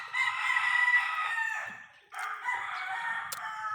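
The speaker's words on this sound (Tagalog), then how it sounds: "Maingay talaga yung manok." Several chickens and roosters at a chicken farm in the Philippines crow and cackle together in a loud, continuous clamour, with a brief dip before another rooster's crow and clucking resume nearby.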